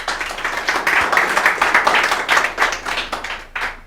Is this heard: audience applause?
yes